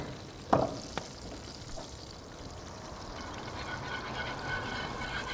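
Garlic drops into melted butter in a pan, giving a soft clatter followed by a faint, steady sizzle that continues quietly and evenly.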